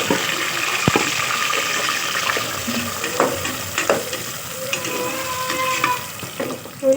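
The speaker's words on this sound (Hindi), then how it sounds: "मिर्च थोड़ी सी फ्राई हो जाए" Chopped chilies frying in oil in a pan for a village-style pumpkin curry, a steady loud sizzle with scraping stirs and occasional clinks throughout, no voices.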